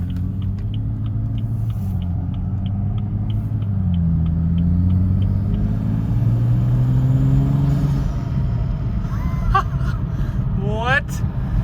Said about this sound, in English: That's like a blow-off valve.